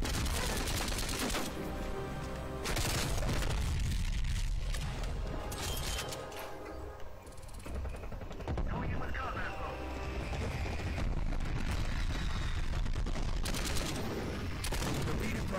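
An aircraft strafing run in a video game brings dense, loud bursts of rapid gunfire and explosions that fill the whole stretch, with a voice talking over parts of it.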